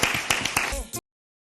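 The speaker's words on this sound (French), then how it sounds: "sous vos applaudissements, nous allons accueillir ici Madame Priska Tankwe" A small audience claps in welcome, producing a short burst of scattered hand claps that lasts about a second and then stops abruptly.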